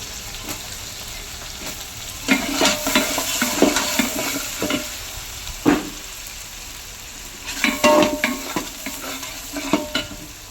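Chopped onions sizzle steadily in a pan while a spoon scrapes and stirs them in repeated bursts. The scraping clusters come in loud, uneven rounds over the constant frying hiss.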